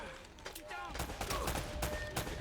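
Enemy gunfire in the video game Uncharted: Drake's Fortune, a dense stream of rapid shots and bursts layered over game sound and a voice.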